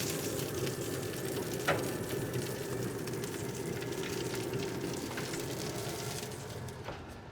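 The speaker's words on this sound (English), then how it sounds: "Now it's time to get that induction burner going here in a second so we can sear." Food sears in a cast iron pan on an induction burner at full heat, a steady, dense sizzle running throughout with a few brief clicks, close and without speech.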